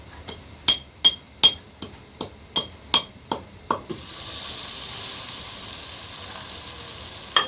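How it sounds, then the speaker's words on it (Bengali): Cardamom, cinnamon, cloves and black pepper for garam masala are pounded with about nine sharp, evenly spaced strikes, each ringing briefly. A soft sizzling hiss follows, and one last strike lands at the very end. "গরম মশলা, এলাচ, দারচিনি, লবঙ্গ, গোলমরিচ এগুলো ছেঁচে তারপরে দিয়ে দিচ্ছি।"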